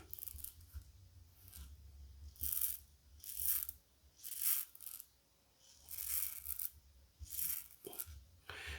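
A Parker 94R safety razor with a Feather blade scrapes across neck stubble in close, raspy strokes. Each stroke is a short burst with brief pauses between them, at an even, repeating rhythm.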